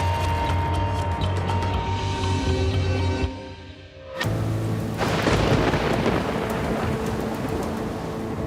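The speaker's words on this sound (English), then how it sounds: "A massive storm rips through Austin," A heavy thunderstorm over Austin, Texas, with a loud steady roar of rain and rumbling thunder, broken by a brief lull before a sharp crack and renewed downpour.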